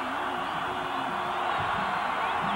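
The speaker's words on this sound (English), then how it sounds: "crowd making some noise here" A football stadium crowd at a 2001 Oregon versus Utah State game, a dense, steady roar of many voices, loud and continuous with faint whoops, under a commentator's talk.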